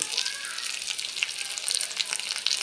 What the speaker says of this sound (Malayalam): ഇഞ്ചി വെളുത്തുള്ളി മൂപ്പിക്കാൻ വെച്ചിരിക്കുകയാണ്.